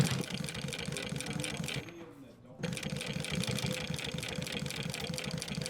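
Sewing machine stitching the handle of an everyday-carry bag, a steady rapid close chatter that stops briefly for a turn and then resumes; speech is heard alongside.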